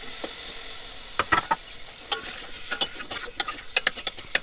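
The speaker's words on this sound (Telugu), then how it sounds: "టమోటా వేసి టమోటాను కూడా బాగా వేయించాలి." Tomatoes fry in hot oil in a home kitchen pan, giving a steady soft sizzle broken by close, sharp pops and scraping stirs, with no talking.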